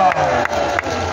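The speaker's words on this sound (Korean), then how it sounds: "박수하겠습니다." A crowd at an outdoor rally in Gwanghwamun's Syngman Rhee Square claps and cheers loudly and close, a broad continuous roar of applause with a few stronger bursts and some voices mixed in.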